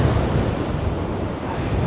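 Sea waves breaking against the boulders of a sea defence at Cleveleys: a steady, broad roar of surf mixed with gusty wind noise on the microphone, continuous and fairly loud with no clear breaks.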